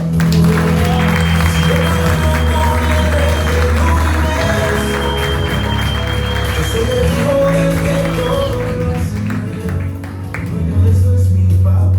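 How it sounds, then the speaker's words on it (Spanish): Loud applause from an audience washes over music with sustained tones, the clapping thinning slightly near the end as the music continues. "Un fuerte aplauso."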